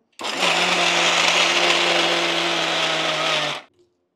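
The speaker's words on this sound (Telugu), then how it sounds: "ఇగో ఇట్లా గ్రైండింగ్ మరీ మెత్తగా అవసరం లేదు." A wet grinder coarsely grinding soaked lentil batter for pappu bakshalu in a home kitchen, a steady loud motor whir with a low hum that runs continuously for about three seconds and then shuts off, no talk.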